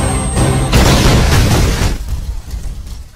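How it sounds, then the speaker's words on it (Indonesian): A bomb blast destroys a house in an Indian action film: a loud, deep explosion that booms and rumbles for about two seconds, then fades into crackling debris. "bom pun meledak menghancurkan rumah"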